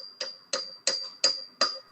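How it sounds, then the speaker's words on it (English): Hammering in a basement: five sharp, evenly spaced blows about a third of a second apart, each ringing briefly, with a steady high tone running underneath and no talk. "Stop hammering in the basement, Gilbert."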